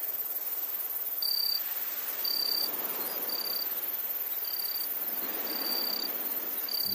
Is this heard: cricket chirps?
yes